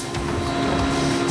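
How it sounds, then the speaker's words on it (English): A factory soap stamping machine pressing seven bars of soap at a time runs steadily at close range, a continuous mechanical hum with a rapid rhythmic clatter and no voices. "This is a stamper, which stamps 7 bars at a time."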